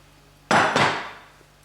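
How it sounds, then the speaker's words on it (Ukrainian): A lid set onto a pot of cabbage covered with water, as part of a traditional Ukrainian braised cabbage dish, lands with a single close, sharp clatter, then a quick second knock and a fading metallic ring. "І накриваємо кришкою."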